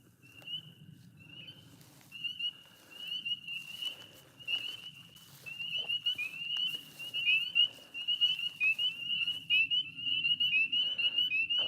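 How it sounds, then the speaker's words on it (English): Frogs at a homestead pond at night keep up a steady high trilling chorus, close and continuous, with scattered clicks and soft rustling below and the calls growing denser and louder toward the end. "The frogs started to go quiet again"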